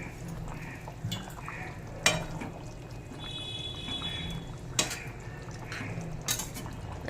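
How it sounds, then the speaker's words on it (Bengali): Fried katla fish pieces are pressed down into bubbling curry gravy with gathi kochu and potato. A spatula makes a few soft clinks and scrapes against the pot over a faint simmer. "এবার খুন্তির সাহায্যে মাছগুলোকে একটু ঝোলের মধ্যে ডুবিয়ে দেব।"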